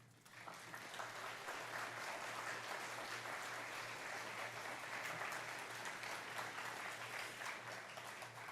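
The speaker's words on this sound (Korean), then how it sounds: "우리 김민성 목사님 나오실 때 큰 박수로 환영해 주시기 바랍니다." A church congregation at a Wednesday worship service claps to welcome the pastor, a broad, continuous wash of applause from many people that holds steady for several seconds at a distance, with a low hum beneath.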